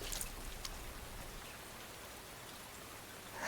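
Steady rain falls in the video game Fire Emblem: Three Hopes, a soft, even hiss of drops that stays faint and constant throughout, with no voices.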